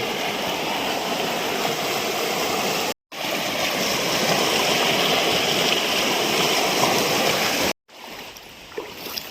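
A stream rushes steadily and loudly, a continuous broadband wash of flowing water, broken by two brief silent gaps.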